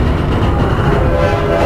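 Loud, close rumble of a train rolling past in the horror game Layers of Fear, a dense continuous clatter and roar with faint horn-like tones over the short span.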